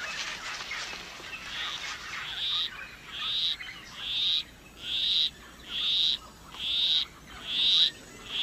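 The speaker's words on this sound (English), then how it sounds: "A male poison arrow frog is courting a female. With his monotonous song, he will try to entice her to follow him under a leaf where they'll mate." A male poison arrow frog in a rainforest gives a monotonous courtship song, a series of about seven evenly spaced, clear, fairly loud call bursts repeating roughly once per second, heard alone over a soft background hum.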